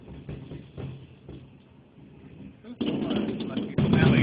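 Spokane 4th of July fireworks finale in 2010: scattered distant booms give way to a loud, dense, continuous barrage of rumbling bursts.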